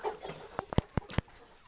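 Chickens and roosters in a farmyard flock give a quick run of four or five sharp, faint clucks over a quiet background.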